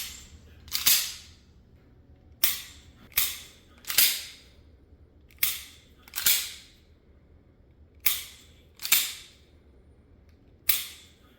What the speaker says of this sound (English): And for comparison, here is Brett shooting the Shadow Systems, which is based off the Glock 17.